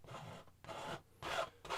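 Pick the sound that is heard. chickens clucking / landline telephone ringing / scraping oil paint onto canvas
scraping oil paint onto canvas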